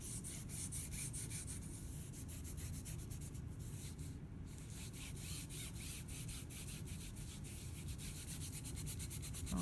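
A baren rubbed firmly over paper laid on an inked plate for a monoprint, pressing around a cutout paper piece, gives a steady close scraping and rubbing sound that runs without a break and is heard alone.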